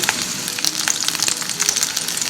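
Shallots, cashew nuts and curry leaves frying in hot oil in a pan, a steady close sizzle with crackling pops throughout and no talking.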